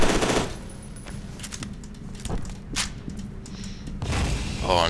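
Gunfire in the video game F.E.A.R. 2: Project Origin, rapid bursts of shots and booming impacts with loud blasts at the start and end, under game noise.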